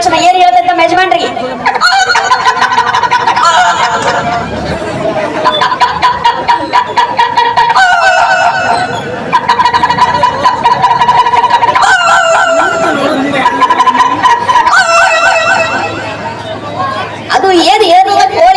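A voice imitating a rooster crowing, loud and close, several drawn-out cock-a-doodle-doo calls in a row, mixed with spoken comedy and some background crowd chatter.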